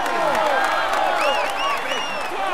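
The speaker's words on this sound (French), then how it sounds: "Allez, on applaudit encore." Audience applauding a cyclist on the Tour de France podium, a continuous wash of clapping and crowd noise with a voice speaking over it.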